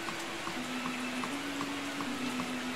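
Curug Ngebul waterfall, water dropping straight down from top to base: a steady broadband rushing roar with a faint tonal hum running through it, constant and unbroken.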